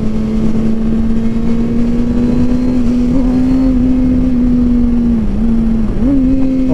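A 138-horsepower car pulls hard in second gear. Its engine gives a close, loud, steady hum that climbs gently in pitch and dips briefly twice near the end.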